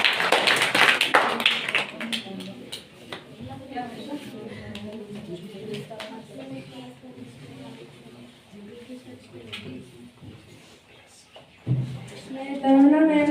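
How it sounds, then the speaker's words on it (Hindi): An audience at a school career-day question session applauds a class 10 student with a brief burst of clapping and taps, followed by a voice speaking over a quiet hall. "सभी इनका ताली बजाकर स्वागत करें"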